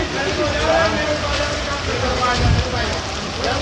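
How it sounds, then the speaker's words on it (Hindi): Heavy monsoon rain pours down outdoors in a steady, loud, broadband hiss on surfaces along a pilgrimage route, unbroken for the whole stretch. "बहुत भयंकर बारिश हो रही है"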